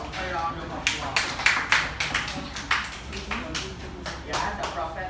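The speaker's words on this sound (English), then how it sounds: "So let's give yourself a round of applause." Small class audience giving a round of applause: a sparse, uneven scatter of individual claps, some louder and closer than others, with voices murmuring in between.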